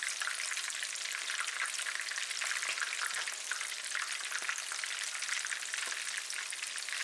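Whole perch frying in a pan on an ice-fishing trip, a steady close bright sizzle with scattered pops and crackles running throughout, no voices.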